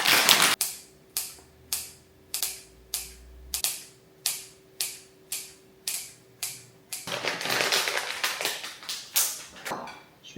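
Kitchen scissors snip through dry food, a regular series of about a dozen sharp, close cuts at an even pace, followed by a denser, rougher patch of crunching cuts.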